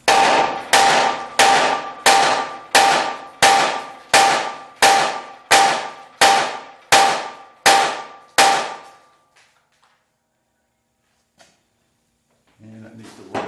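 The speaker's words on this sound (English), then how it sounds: "So I'm going to try the big hammer." A big hammer pounds a 1976 Corvette trailing arm about a dozen times in a steady rhythm, each strike a loud, close metallic clang with a ringing decay, followed by quiet and a faint clink.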